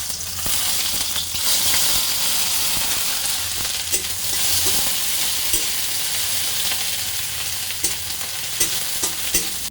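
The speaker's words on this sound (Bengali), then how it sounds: "পেঁয়াজটা লাল লাল করে ভাজা হয়ে গেছে" Onions with garlic and a little salt frying in a pan for a masoor dal, a loud steady sizzle with occasional stirring scrapes, close up and continuous with no talking.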